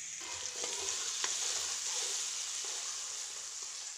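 Onion, cumin, salt and turmeric sizzle steadily in hot oil, a close, continuous hiss with a few soft clicks of movement in the pan.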